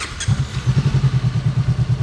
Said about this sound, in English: feel like this has a thumpier exhaust.